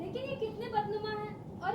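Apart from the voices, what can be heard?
No everyday noises stand out.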